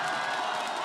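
Dense crowd of about 500 local residents roaring and cheering in a school gymnasium during a women's curling match, a steady, loud wall of shouts and whoops with no gaps.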